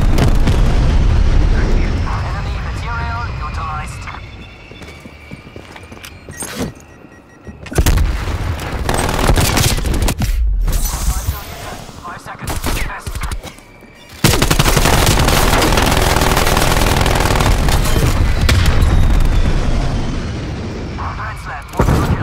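A strafe run in Black Ops Cold War on the Slums map unleashes loud, sustained gunfire and booming explosions in heavy waves, with brief lulls between barrages and voices speaking amid the chaos.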